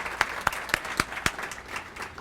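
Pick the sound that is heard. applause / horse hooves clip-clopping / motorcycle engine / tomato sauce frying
applause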